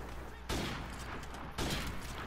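Two loud, sharp sniper rifle shots from Call of Duty Modern Warfare Remastered ring out about a second apart, each a sudden blast that decays slowly over steady game background noise.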